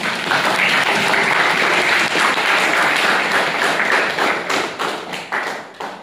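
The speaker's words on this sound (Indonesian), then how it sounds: "Mari kita akhiri dengan memberi tepuk tangan dengan untuk semua pihak yang terlibat." Dense, loud applause from an audience closing a class session on research methodology, a sustained wash of many hands clapping that thins into scattered claps near the end.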